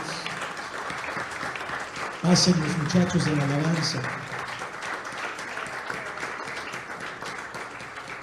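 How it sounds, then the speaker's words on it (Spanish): A church congregation applauds the Lord during a Sunday service, steady full-room clapping running throughout while someone speaks over it and voices briefly sing out in the middle. "Damos un aplauso al Señor"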